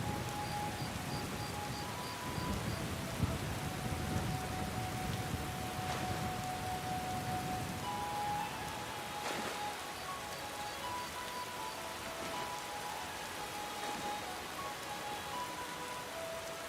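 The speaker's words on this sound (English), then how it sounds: "It's raining." Steady rain pours down in the Skyrim video game, a dense continuous patter on surfaces with a few faint tones in the background and no voices.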